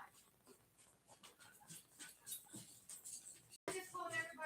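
Dogs indoors whimper, pant and give soft yips in a quick, restless stream, fairly close but low in level, with a brief cut-out before a sharper outburst at the end.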